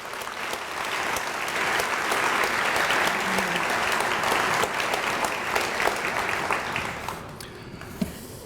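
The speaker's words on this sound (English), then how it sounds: "Another round of applause for them, please." An audience at a Champions for Children school district event applauds, a dense, even clatter of many hands building in the first second, holding steady, then thinning out near the end.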